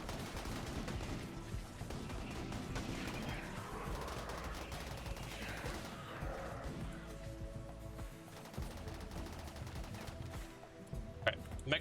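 Ship turrets firing in a space-ship video game, rapid continuous bursts of automatic gunfire that rattle on for the whole stretch, thinning out near the end with a few sharp isolated cracks.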